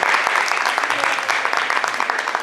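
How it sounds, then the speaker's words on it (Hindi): Audience at a staged drama performance applauds the lighting director with dense, continuous clapping that stays loud and close for the whole stretch. "धनराज भैया के लिए जोरदार ताली।"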